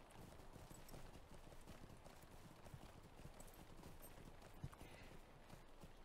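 Horse hooves clip-clopping in the online game Lord of the Rings Online, a quiet, steady run of rapid hoofbeats on the ground continuing without pause, with a faint game backdrop and no talking.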